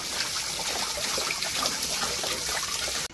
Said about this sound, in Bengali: দেখো মাছটা কেটে নিয়েছি, এইবার আমি ভালো করে ধুয়ে নেব। ধুয়ে নিচ্ছি ভালো করে।